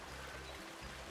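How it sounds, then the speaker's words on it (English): Gushing water from an aquatic waterfall in the Planet Zoo video game, a steady broadband rush that fills the short clip at low level with no voices. "The aquatic waterfalls."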